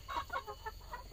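Noisy free-range chickens (ayam kampung) in a farm coop clucking in a quick run of four or five short, faint calls.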